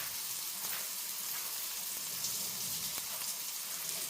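Onions sautéing in a pan for butter chicken, a steady soft sizzle and crackle with faint pops, fairly quiet and continuous throughout.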